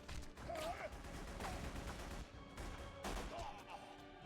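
Kalashnikov rifle fire in The Punisher video game: rapid bursts of gunshots cracking in quick succession over busy game background noise, with a couple of sharper shots standing out.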